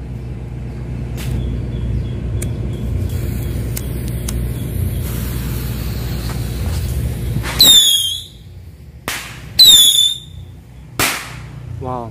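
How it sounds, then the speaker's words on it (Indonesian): After a low rumble, five rocket firecrackers launch with sharp whistles and loud cracks bursting out one after another, close and piercing. "Selanjutnya kita cobain petasan luncur."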